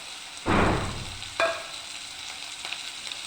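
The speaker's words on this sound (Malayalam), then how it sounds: "അത് ഇട്ട് കൊടുത്ത് നല്ലതുപോലെ ഒന്ന് വഴറ്റിയെടുക്കാം" Green chillies and tomato hit hot oil in a pan with a loud sizzling burst, then a second, smaller splash of frying follows before settling into a steady low crackle, with no talking.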